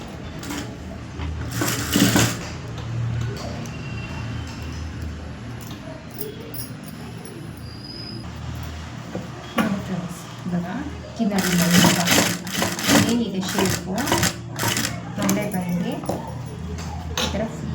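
A sewing machine stitching a neck design on fused fabric runs in a few rapid bursts, a whirring mechanical rattle alternating with pauses, while someone talks over much of it.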